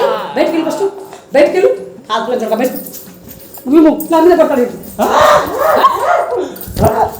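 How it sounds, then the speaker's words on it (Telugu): A dog barks repeatedly in short bursts amid loud, overlapping talk from several people. "కుక్క ఎంత సౌండ్ ఏమిట్రా"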